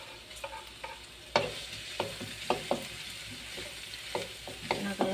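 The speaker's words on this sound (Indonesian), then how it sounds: "Setelah panas kita masukkan bawang putih ya, yang udah dicincang tadi." Minced garlic sizzles in hot oil in a pan while being stirred, with intermittent scraping clatter from the spatula over a steady frying hiss, close and moderately loud, no talking.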